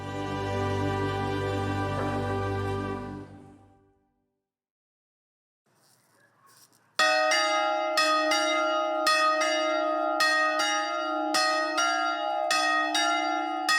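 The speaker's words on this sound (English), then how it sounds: "Paolo Penaccione rings the bells." Church bells at the Gorgona island prison ring loud and close in a steady run of repeated clanging strikes for the last seven seconds, after a tonal passage and a brief near-silent gap.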